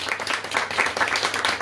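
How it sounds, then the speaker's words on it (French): Audience applause for the hosts at a literary conference, a steady dense patter of many hands clapping at moderate level throughout, with no voices on top. "je souhaiterais aussi qu'on remercie et qu'on applaudisse ceux qui nous accueillent aujourd'hui"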